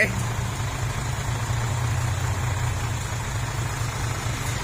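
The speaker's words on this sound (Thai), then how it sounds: "รถไถ" A Kubota L5018 tractor runs steadily nearby while pulling stuck vehicles out of mud, its loud low engine rumble continuous throughout.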